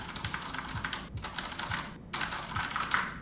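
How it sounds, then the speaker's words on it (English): Typing on a Bluetooth wireless RGB keyboard at a minimalist desk setup produces quick, close clicking keystrokes in short bursts, separated by brief pauses. "using this keyboard is just so fun, and it's just fun to type on"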